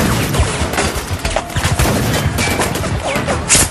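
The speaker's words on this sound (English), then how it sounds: "Imagine that the platoon takes on small arms fire." Small arms fire in a military combat scene, heard as a dense, loud barrage of overlapping shots and crashing bursts with no gaps.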